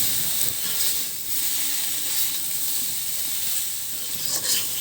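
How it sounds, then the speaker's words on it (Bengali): Pointed gourd frying in a pan with salt, turmeric and chili powder, giving a steady, loud hiss and sizzle that runs throughout with faint stirring, and no voices. "এর ওপর পরিমাণ মতো লবণ দিয়ে দেওয়া হলো, এরপর হলুদের গুঁড়ো এবং মরিচের গুঁড়ো দিয়ে ভালোভাবে ভেজে নেওয়া হচ্ছে"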